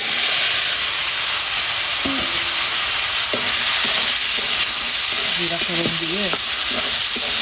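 Boiled greens being tempered in a hot pan give off a loud, constant broadband sizzle and hiss, with stirring scrapes and brief speech heard over the frying.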